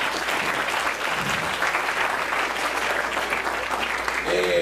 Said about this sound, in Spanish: Demos un aplauso a Cristo.